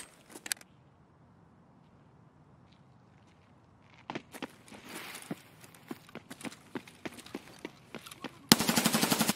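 Gunfire in the shooter game Escape from Tarkov starts as scattered sharp single shots, then a denser run of reports, and ends in a loud sustained automatic burst, with quiet ambience and a few faint steps in between.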